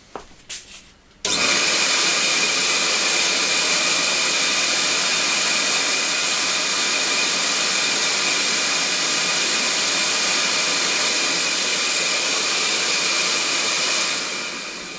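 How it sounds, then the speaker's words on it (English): A CamVac dust extraction system starts up with one of its motors running, a loud, steady, close roar with a high whine that holds evenly for well over ten seconds after a short burst of handling noise. "Now my CamVac is no more than 2 meters away, and I'm just going to go now and turn one of the motors on"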